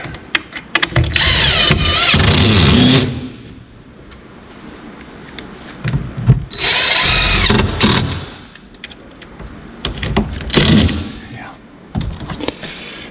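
A power drill drives screws into a board for a boat's battery compartment wall, in three short whirring bursts with pauses between them, while people talk nearby.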